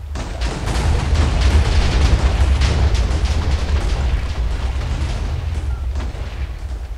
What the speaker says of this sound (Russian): Такого мощного взрыва я не ожидал